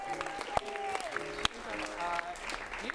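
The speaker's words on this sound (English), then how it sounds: "Let's give Morgan a round of applause." Brief applause from an improv comedy theater audience, clapping mixed with a couple of sharp thumps and voices talking over it, fairly faint and close.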